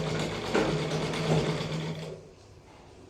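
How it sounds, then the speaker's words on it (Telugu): A sewing machine runs steadily as it stitches along a sari border, a close whirring and mechanical clatter that slows and fades near the end, ending in a brief click. "ఇప్పుడు నేను స్టిచ్ చేస్తూ ఉన్నాను చూడండి."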